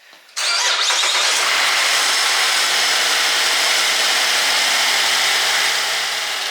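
A 2014 Buick Enclave engine, just back together after a water pump replacement, cranks briefly and catches, then settles into a steady, even idle heard close up with no talk.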